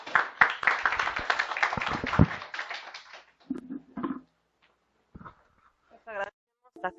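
Audience at an October 2017 session applauding its speakers, a burst of clapping for about three seconds that fades into scattered claps, murmurs and brief voices.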